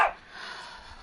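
Indoor dogs let out a single short bark at the start, followed by a faint lingering hiss of room noise.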